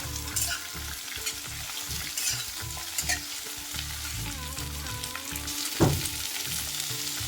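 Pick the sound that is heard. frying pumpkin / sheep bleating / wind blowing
frying pumpkin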